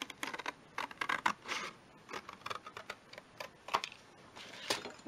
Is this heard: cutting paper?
yes